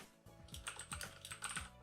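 Rapid keystrokes on a computer keyboard, a close, quiet run of crisp clicks in an uneven rhythm with no talking over them.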